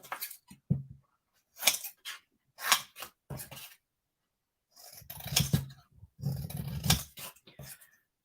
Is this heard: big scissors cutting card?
yes